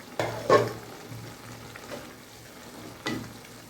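Spinach being stirred in a frying pan, with a few soft scraping strokes over a low, steady sizzle; three brief louder scrapes stand out near the start and end.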